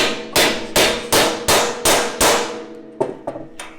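A hammer drives a bolt through a custom metal panel on an offroad rig: seven or eight sharp, ringing strikes in a steady rhythm, close and loud, with lighter taps at the end.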